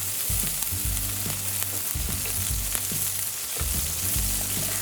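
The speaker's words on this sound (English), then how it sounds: "Just let that saute for about a couple seconds, 20 seconds." Chopped peppers and pimento peppers sizzle and fry steadily in a smoking-hot wok, with a continuous close hiss broken by repeated low stirring knocks and scrapes.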